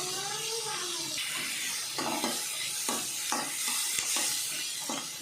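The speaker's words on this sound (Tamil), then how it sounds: "பூரி இது நல்லா ஃப்ரை ஆகட்டும்" Puri fry in hot oil as part of a puri and chana masala meal, giving a continuous loud sizzling hiss. Repeated soft stirring strokes come through it at a steady rhythm.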